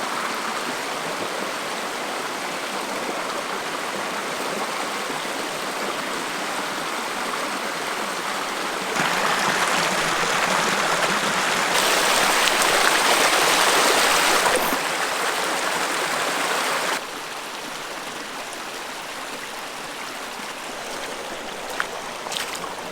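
Flowing stream water rushes steadily and close throughout a creek crossing on a day hike, growing louder and brighter in the middle stretch as the water is waded, then settling back to a constant babble.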